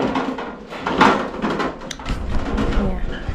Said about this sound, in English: sorry about the noise, it's Uncle passing with the wheelbarrow